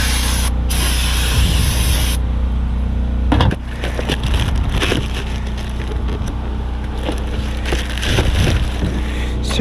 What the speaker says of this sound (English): Let's spray this down.